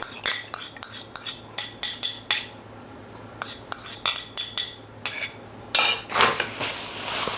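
A utensil stirs oil into a melted beeswax healing balm in a small container, producing a quick run of sharp, bright clinks and taps in an uneven rhythm, close by, with no talking.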